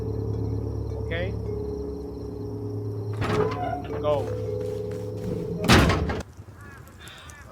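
A door opens with a heavy slam and sliding clatter in the survival video game Rust, set over a steady low mechanical drone with short thuds; players talk briefly nearby.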